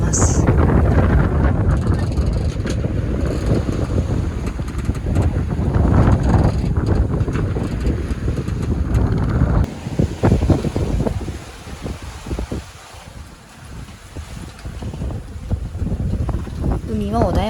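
Wind rushing past a sailboat crossing the Pacific at six to seven knots, with a loud, gusty roar and water wash that drops and thins partway through. A voice talks over it at times.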